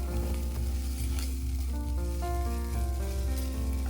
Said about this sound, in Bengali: পেঁয়াজটা ভাজা হয়ে যেতেই এর মধ্যে দিয়ে দিয়েছি আদা রসুন আর লঙ্কা বাটা